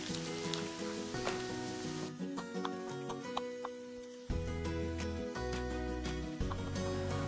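Pepper and onion mixture sizzling in a frying pan, a steady close crackle and hiss that runs the whole time, with a few light clinks of a utensil against the pan.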